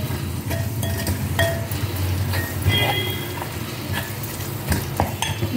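Steady sizzling from a hot pan as onions are stirred with turmeric, with occasional metallic scrapes and clinks of a utensil against the pan.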